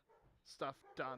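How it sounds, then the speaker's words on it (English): Dogs near a house give two short, faint barks over a quiet background while a person talks. "Sorry about the noisy barking dogs."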